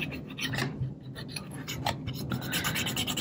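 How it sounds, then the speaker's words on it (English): A cotton swab dipped in alcohol scrubs grime off the body of a Kodak Instamatic 300 camera, producing quiet close-up rasping and scratching strokes in quick irregular bursts. "Get another Q-tip, just to make sure that any of that surface grime is off of there."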